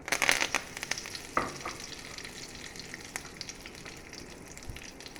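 Oil sizzles and crackles in a pan with mustard seeds as curry leaves are dropped in, with sharp spitting pops early on fading to a softer fry.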